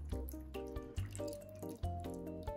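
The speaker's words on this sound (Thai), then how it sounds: "แล้วก็น้ำส้มสายชูใส่ลงไปเลย" Vinegar is poured from a bottle over pork in a bowl for crispy pork, making close, gurgling glugs and splashes in an uneven rhythm, with no talking.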